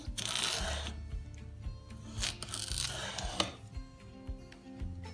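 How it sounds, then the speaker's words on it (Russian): A knife slices a cucumber into rounds on a cutting board, giving scattered soft cuts and board taps that are close and moderately quiet, with no voices. "Огурец разрезаем на слайсы."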